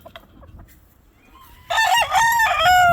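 A six-month-old blue face McLean stag, a young gamecock rooster, lets out one loud, close crow after a few quiet seconds of faint yard noise and scattered clucks.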